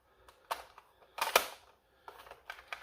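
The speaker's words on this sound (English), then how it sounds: "Mag's going here like Sue." A Dart Zone Max Venom Pro foam blaster magazine slides into the mag well with a few faint plastic clicks and a sharper latching snap in the middle, quiet and close.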